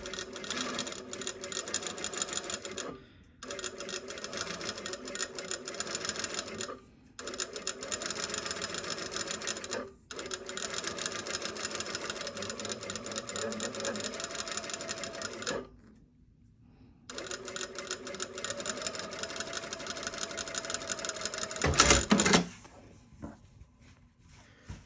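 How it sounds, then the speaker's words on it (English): A sewing machine pin-stitches around a bias-bound edge in long, steady runs of rapid stitching, broken by several brief pauses, ending with a short clatter and then quiet. "Now what I'm going to do is pin stitch around this edge here to hold it down."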